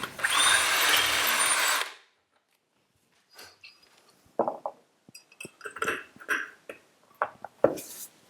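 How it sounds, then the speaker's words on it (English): A power drill bores a hole into a wall for a curtain pole bracket, one loud whirring burst that stops abruptly, followed by quieter clicks and handling knocks. "And I can then drill my hole."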